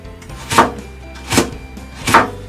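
Three evenly spaced knife chops on a cutting board while preparing vegetables for Filipino-style yakisoba, each a sharp, close thud with quiet pauses between.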